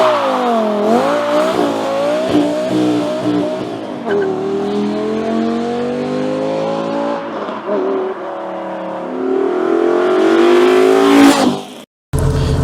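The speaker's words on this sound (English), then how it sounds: "let's go for a drive now and hear how the sound of the engine is now" A modified Volvo car engine with a throaty repaired exhaust revs and pulls through gears while driving, rising and falling in pitch, loud and close, ending abruptly.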